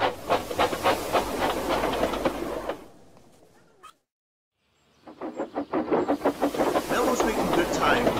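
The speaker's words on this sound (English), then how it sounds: "he wished to speed and puffed carefully out of the station" Cartoon sound effect of a steam locomotive pulling out of a station, rhythmic chuffing puffs with steam hiss that fade to silence and then resume, building in rate and loudness.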